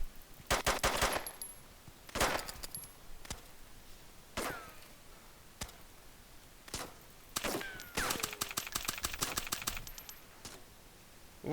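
Bursts of gunfire crack out in several separate volleys, some rapid and rattling like automatic fire, others single sharp shots, spaced across a quiet background at moderate loudness.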